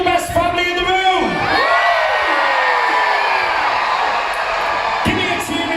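Families in a holiday camp audience at Butlins Bognor cheer and whoop loudly, a dense sustained roar of mixed adult and children's shouts that swells and holds across the whole stretch.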